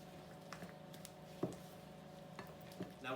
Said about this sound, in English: a jolly good old stir around.